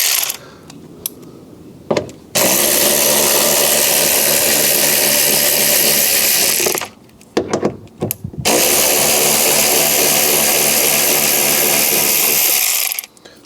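Power driver undoing T30 Torx screws on a Fiat 500 door, loud sustained whirring bursts of several seconds each separated by short pauses, close and alone.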